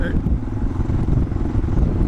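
A Suzuki DR650 dual-sport motorcycle engine chugs at low revs while rolling over soft desert sand, a close, steady rumbling thump heard under a rider's talk.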